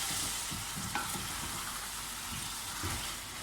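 Chicken for pulao browning in a pot, a soft, steady frying hiss with light rhythmic stirring knocks underneath, fairly faint and continuous throughout.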